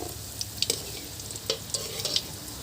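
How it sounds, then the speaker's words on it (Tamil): Chicken pieces fry in hot oil in a home kitchen, giving a soft steady sizzle broken by scattered sharp pops and crackles, fairly quiet and close. "மிச்சம் இருக்கிற சிக்கனையும் பொரிச்சு எடுத்துக்கிறேன்."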